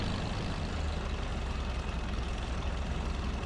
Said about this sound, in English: This tractor's struggling uphill with it.